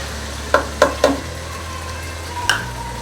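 Chicken karahi frying in a pan, a steady sizzle underneath several sharp clinks of a spoon stirring against the metal, three quick strikes then one more after a pause, close and fairly loud, with no talking.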